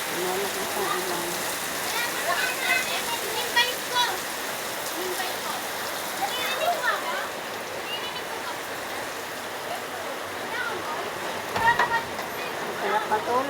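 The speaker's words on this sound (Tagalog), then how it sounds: "Grabe, lakas ng ulan." A heavy downpour keeps up a thick, continuous wash of rain noise, with a person's voice surfacing faintly now and then beneath it.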